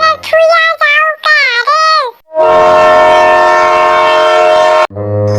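A toy train at a children's park sounds its horn in several loud, wavering musical toots, then holds a long steady blast that stops abruptly, followed by more tooting.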